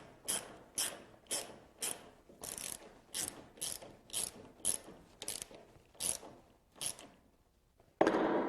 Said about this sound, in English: A lot of guys use rail bolts for this connection, but if you don't have one, these lags work pretty well.